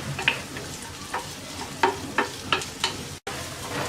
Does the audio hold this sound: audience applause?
no